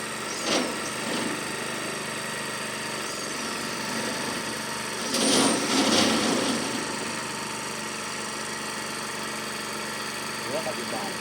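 A vehicle engine runs steadily at a rural spot, a constant idling drone throughout, with brief louder surges, and people talking over it.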